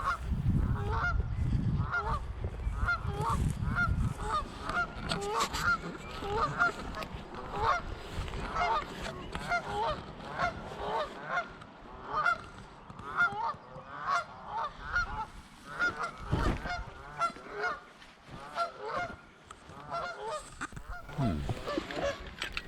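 Geese honk repeatedly outdoors by a river, their calls overlapping in an irregular chorus at moderate distance over a low rumble of wind.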